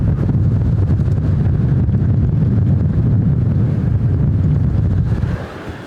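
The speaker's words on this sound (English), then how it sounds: "it has become windy overnight" Strong wind blasts across the microphone at Toolik Lake in Arctic Alaska, a loud continuous low roar and buffeting that eases off sharply just before the end, with no talking.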